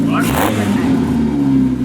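A 1980s Honda CRX Si engine runs at a high idle, a steady loud droning hum with a brief rising rev, while a person talks over it close by.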